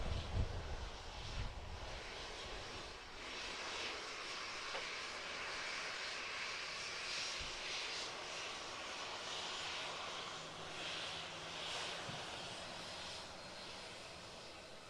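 A Boeing 747 jet airliner departing Manchester Airport, its engines a broad, steady roar heard from a distance, with wind buffeting the microphone at times and no speech.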